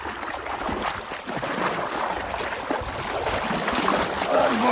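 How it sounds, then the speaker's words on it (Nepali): River water rushing around someone floating downstream, a continuous loud churning roar with burbling and splashing close by, no voices. "अनि अब म चाहिँ पानीमा बग्छु है त एकचोटि"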